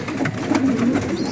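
Pigeons in a pigeon loft coo with soft, low, rolling calls that overlap steadily, close by and moderately loud, with no talking.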